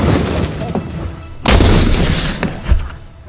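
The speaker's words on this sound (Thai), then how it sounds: "รถถังแรกของวันนี้คือ Scorpion นะครับมันคือรถถังเล็กมากแล้วเราจะยิงกระสุน76 มม." A Scorpion light tank fires a 76 mm round outdoors, one sharp, very loud blast with rumbling echo and a second thump shortly after, over a noisy outdoor background.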